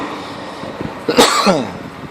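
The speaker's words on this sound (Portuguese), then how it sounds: "Desculpa aí as tosse" A single harsh cough bursts out near the mic after a quiet moment, followed by a shorter raspy throat sound, from a hoarse-voiced man in a carburetor workshop.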